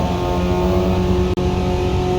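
A Chevy race car engine holds full throttle in fourth gear with a loud, close, steady drone. The roar breaks for a split-second cut midway, then carries on.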